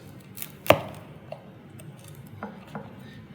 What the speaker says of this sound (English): you can hear that nice crust, right, when you cut through